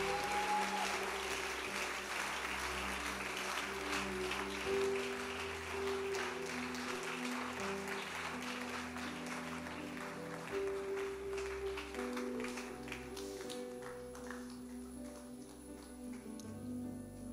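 A church congregation applauding the Lord, sustained dense clapping for many seconds with music underneath, gradually thinning toward the end.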